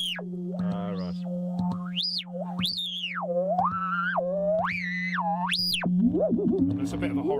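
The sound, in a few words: synthesizer oscillator modulated by hand gestures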